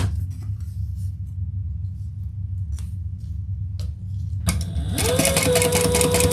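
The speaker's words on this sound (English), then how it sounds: "Now we're just top stitching." Quiet room hum with a few faint handling clicks, then a sewing machine starts up and runs steadily while top stitching a shirt, its whirring motor close and continuous to the end.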